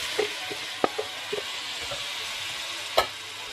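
Sukuma wiki greens frying in a pan with a soft, steady sizzle. A utensil clicks and scrapes now and then as the greens are stirred, ending with one sharper clack.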